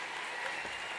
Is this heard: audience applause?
yes